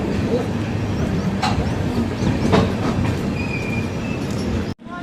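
A Sabarimala special passenger train runs loudly and continuously as it pulls into Bangarapet station, with rumbling wheels and a few brief squeals, before the noise drops out abruptly near the end.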